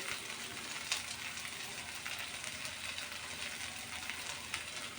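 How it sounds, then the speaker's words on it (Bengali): Fish oil sizzling in a pan alongside fried onion and boiled eggplant, a steady dense crackle with a few sharper pops and faint stirring scrapes, close and continuous with no talk. "এখানে আমি মাছের তেলটা কিন্তু দিয়ে দেবো"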